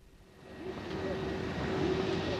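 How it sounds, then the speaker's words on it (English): A chartered aeroplane taking off from Paris, its engine roar building steadily and then holding as a loud, continuous drone with a faint tonal whine over it. "A specially chartered aeroplane takes off from Paris, bound for Tehran."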